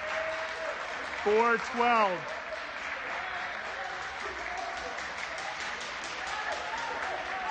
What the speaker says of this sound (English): Right now, both benches clapping.